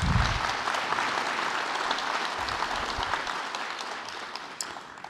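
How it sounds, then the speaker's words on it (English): A plenary audience at a conference claps in a steady, even round of applause, moderately loud and continuous, with a few sharper individual claps standing out near the end. "Can we give them, please, a round of applause?"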